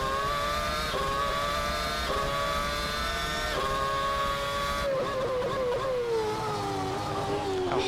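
A McLaren MP4/22 Formula One car in the Assetto Corsa racing game screams at high revs around Monza, with sharp gear-shift steps, a loud continuous whine and a falling, wavering pitch as the car brakes and rides the curbs.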